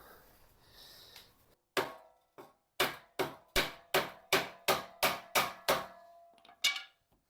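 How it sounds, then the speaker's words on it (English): Hammer blows drive an aftermarket exhaust pipe further onto a BMW 328i: about a dozen sharp metallic strikes in a steady rhythm, close and loud, with a pause before a final hit. "I can actually hammer that in a bit further"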